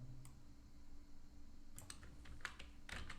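Keys tapped on a computer keyboard while coding, in a few quiet clustered bursts of light clicks against a soft steady background hum, with no talking.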